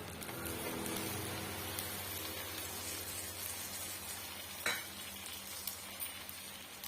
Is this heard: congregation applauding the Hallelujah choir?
no